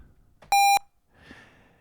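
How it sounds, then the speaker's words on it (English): A single loud electronic beep from an IBM PCjr computer speaker, a steady pure tone lasting about a quarter second, followed by faint background noise. "listen to the original sound. It was just using beep."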